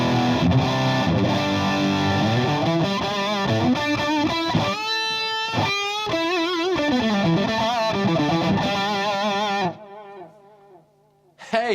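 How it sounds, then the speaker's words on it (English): An electric guitar through a Danelectro Billionaire Cash Cow overdrive pedal plays a gritty, sustained lick with bends and quick notes, loud and up close, then cuts off into near silence. "There's a fair bit of gain going on or overdrive going on even at this kind of low setting."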